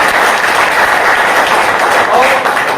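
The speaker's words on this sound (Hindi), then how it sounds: "IMC के लिए जोरदार तालियां होनी चाहिए" Loud, dense applause from an audience cheering for the IMC company at a Hindi-language business presentation, sustained evenly for about three seconds.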